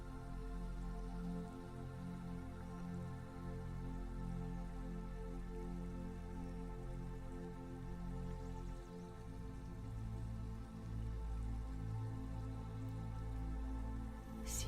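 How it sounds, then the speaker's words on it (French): A babbling brook trickles and drips softly and continuously, faint and steady beneath a sustained, calm musical drone. "C'est le chant d'un ruisseau qui vous sort de votre quiétude."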